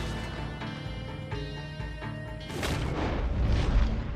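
Cannon fire in Red Dead Online, a loud booming blast about halfway through that gives way to rumbling, noisy debris, over a steady game music bed.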